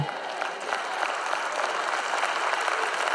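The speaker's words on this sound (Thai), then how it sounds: "แม่ฉันชอบเสียงปรบมือปอบๆแปะๆแบบนี้จริง" Sustained applause from an audience, a dense steady patter of many hands clapping at moderate loudness, with no voices on top.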